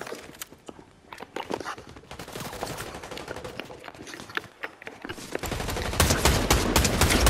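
Gunfire in Fortnite, a burst of sharp shots that builds into denser rapid firing toward the end, loud and close, with no talk.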